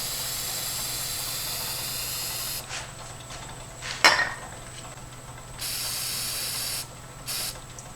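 Spray bursts of finish misting onto a rotating epoxy resin woodturning ornament, a steady hiss for a few seconds, a brief sharp blast, then two shorter hissing sprays, close and alone.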